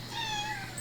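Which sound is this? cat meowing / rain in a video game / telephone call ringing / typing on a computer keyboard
cat meowing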